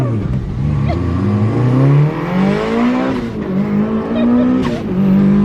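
A V8-swapped Toyota Cressida with an LS engine and poor brakes accelerating hard while racing another car, its engine note climbing loud and close through gear changes, with a brief tire chirp and voices underneath.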